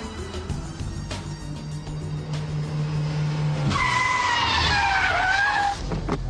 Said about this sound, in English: the handbrake turn followed by reverse flick, and the Scandinavian flick followed by lift-off oversteer